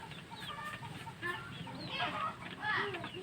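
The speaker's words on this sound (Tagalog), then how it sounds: "Manok yan guys." Chickens cluck in short, quiet bursts at some distance, with soft outdoor background noise.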